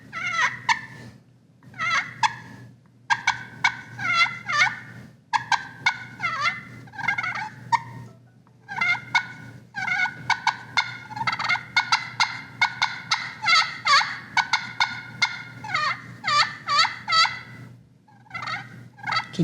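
A hand-operated turkey call imitating a content hen's soft purrs and clucks, with repeated bursts of chirping calls in an irregular rhythm that is loud, close and unaccompanied.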